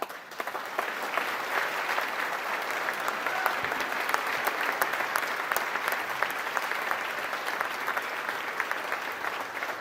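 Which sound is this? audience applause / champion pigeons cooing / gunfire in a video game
audience applause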